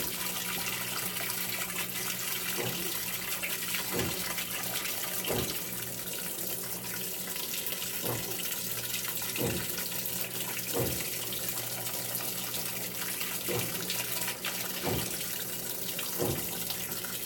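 A GE GTW680BS6JWS top-load washing machine deep-filling with hot water on a delicate cycle: a steady rushing hiss of inflowing water with soft regular thumps every second or so, no voices.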